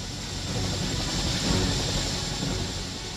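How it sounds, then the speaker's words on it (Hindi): A Chinook helicopter lifting off over a village, a loud, continuous roar of engines and rotors that swells slightly midway, heard alone without talk. "महाबली हेलीकॉप्टर चिनूक आखिरकार हवा से बातें करने लगा।"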